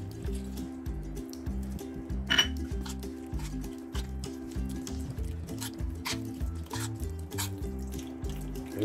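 A spoon clinks and scrapes rhythmically against a bowl while chicken is mixed with egg and squeezed lemon into a marinade, a steady close-up stirring pattern with one sharper knock midway.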